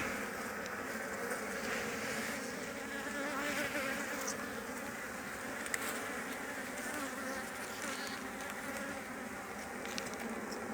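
Dense, steady buzzing of many honeybees swarming close by, a continuous droning hum with no pauses.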